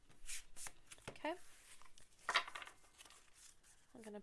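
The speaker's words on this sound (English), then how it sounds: "While I'm shuffling" A deck of tarot cards is shuffled in short papery bursts of riffling and sliding, with brief bits of voice between them at close range.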